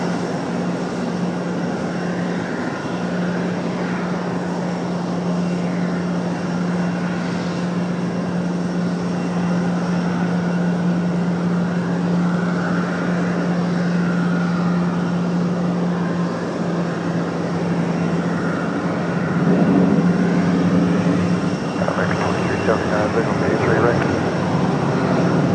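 An Airbus A321 airliner at Raleigh-Durham International Airport produces a long steady engine roar with a low droning hum throughout, swelling slightly louder toward the end, while air-traffic radio voices talk over it.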